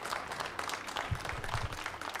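A crowd claps steadily at a welcome event for an Olympic silver medalist, a dense patter of many hands at moderate distance, continuous from start to finish.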